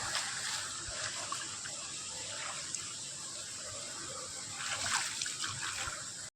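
Stream water flows and trickles steadily with soft splashing under hot sun, fairly faint and continuous, swelling briefly toward the end.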